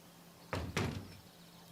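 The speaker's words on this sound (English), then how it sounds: "She slammed the door loudly." Door slammed loudly in Everlasting Summer, two sharp heavy bangs in quick succession, close and clear, trailing into a short rattle before quiet returns.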